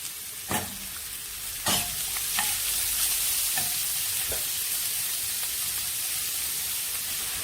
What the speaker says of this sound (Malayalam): നമുക്ക് ഇതിലേക്ക് സവാള ചേർത്ത് വഴറ്റിയെടുക്കാം